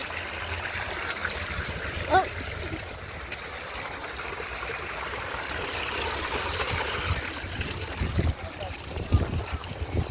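A small river flows steadily with a soft trickling rush, continuous throughout, with some faint voices and movement nearby.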